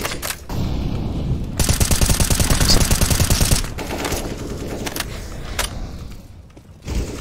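Rapid automatic gunfire bursts from a CS:GO match, loud and dense for about two seconds, then scattered single shots and thuds, with a final sharp report near the end.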